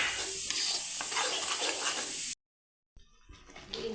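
Food fries in a little oil in a pan while being stirred, giving a close, steady sizzle with scraping that cuts to silence midway, then returns as quieter frying and clinks.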